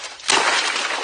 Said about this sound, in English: I can hear the distance from the breaking of the glass.